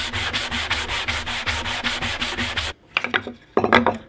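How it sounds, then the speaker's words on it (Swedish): Wooden shelf boards being sanded on a workbench, a steady run of rhythmic back-and-forth rasping strokes, fairly close, that stops briefly and then resumes with a few shorter strokes. "Och sen passar jag på att slipa hyllplanen också."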